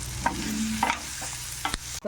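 Ingredients for a Malabar spinach chutney being stir-fried in a pan, steady sizzling punctuated by several distinct spatula scrapes and clinks, close-up and with no talking.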